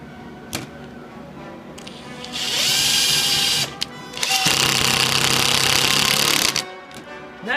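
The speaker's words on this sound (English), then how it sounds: "I'm going to take this screw right here and I'm going to put it into this wood." A cordless screw gun drives a screw into a piece of wood, buzzing loud and close in two long whirring bursts with a brief pause between them, set off by a few clicks and knocks.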